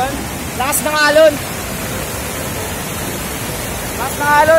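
A waterfall's rushing water makes a steady, loud broadband roar that fills the whole clip, with a few brief voices rising above it near the start and end.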